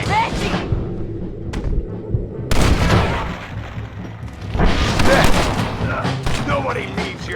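Gunfire crackles in Red Dead Redemption as a shootout of loud, overlapping shots and booms, with voices talking amid the firing.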